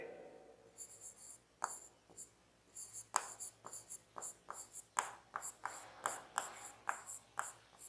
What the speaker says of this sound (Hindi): लिख लेते हैं हम ताकि हमें तैयार रहे